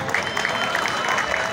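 Steady, dense clapping from a crowd of spectators at a college boys' volleyball match in Mianwali, Punjab, a continuous wash of applause with no break.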